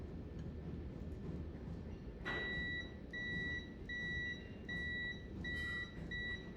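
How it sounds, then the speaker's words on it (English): A multimeter set to continuity mode, probed across cable wires, gives steady electronic beeps: several sustained tones, each about half a second long, separated by short gaps, over a constant background hum. "I put it into continuity mode, which means when I touch the wires, it'll beep."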